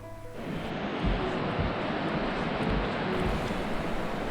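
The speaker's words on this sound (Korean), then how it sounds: "한탄강 여울소리가 가마솥 끓는 물소리 같다 하여" Steady rushing water roars without pause, a dense broadband wash of fast river rapids on the Hantan River in Cheorwon, South Korea, heard up close, with no voices.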